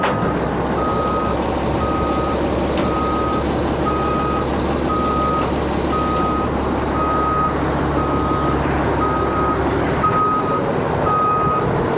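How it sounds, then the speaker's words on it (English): A truck backs up at an equipment auction yard in Perris, California, its reversing alarm beeping steadily over a loud engine rumble; near the end the engine note drops as it comes to a stop. "put it in reverse and like back up a little bit, then slam the brakes."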